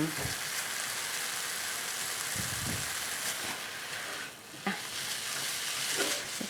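Rice stir-fried with pork and preserved olive leaves in an oiled pan, a steady close sizzle and hiss with intermittent scraping and stirring knocks throughout.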